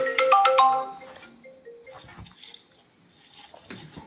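FaceTime video call ringtone chiming through a meeting's audio, a bright melodic ring sounding loudly at first then fading into quieter room noise with a brief click near the end.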